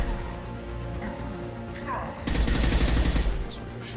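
Gunfire in the video game Mass Effect Legendary Edition, a sudden loud burst of rapid shots that follows quieter game ambience, with someone talking over it.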